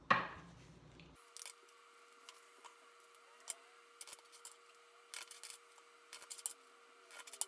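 Quiet, sparse crisp flicks and soft papery snaps of tarot cards being shuffled, in irregular bursts against a faint steady hum, no talking.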